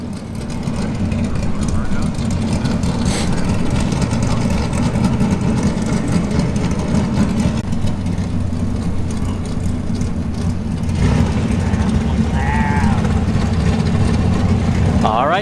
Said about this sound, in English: Oh, I hear the engines fired up.